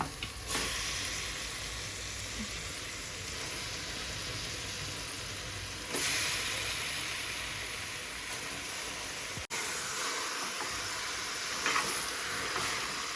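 Mutton hits a hot pan and sizzles loudly and steadily, a continuous crackling hiss with a few brief surges as it is stirred; no voices.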